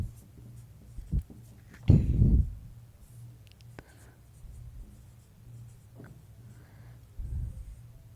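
Pen or chalk writing an answer by hand during a maths lesson: faint scratching strokes with a louder scrawl near two seconds and another toward the end, soft room tone between.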